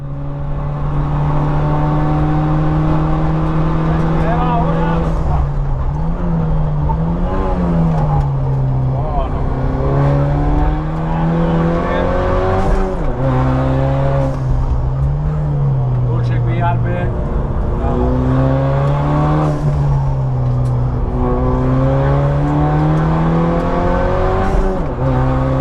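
A Ford Mustang or Focus RS is driven hard on a race track, with loud engine revs that rise and fall through the gear changes and strong, steady tonal harmonics under a voice talking throughout.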